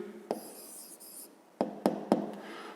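A pen writing an answer on paper during a fifth-grade maths exercise, soft scratchy strokes broken by several sharp taps of the pen against the desk, close and quiet.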